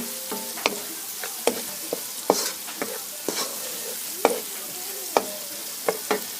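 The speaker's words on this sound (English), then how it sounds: "Also going to drizzle a little bit of that in the pot. About that much. And start mixing everything in." Food is stirred in a pot with oil drizzled in, giving a soft sizzle under repeated scraping clicks of a utensil against the pot at an irregular pace, close by.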